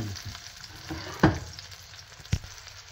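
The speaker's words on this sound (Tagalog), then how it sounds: "Lutuin muna natin yung bawang." Garlic fries in a hot pan with a steady close sizzle, broken by two sharp clatters of a utensil stirring and scraping the pan.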